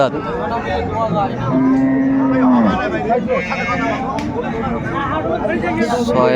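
A cow with her calf moos once in a long, loud, steady call at a busy cattle market, with people talking and crowd chatter all around.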